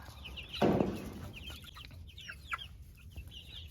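Chickens cluck softly nearby, with one louder squawk early on and quieter chirps and clucks afterward over a faint background.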